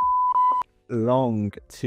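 A short, loud electronic censor tone holds a steady pitch for about half a second, then someone speaks briefly.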